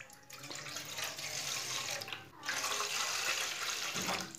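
Two glasses of water poured into a cooking pot while making vegetable noodles, a steady splashing stream with a short pause between pours.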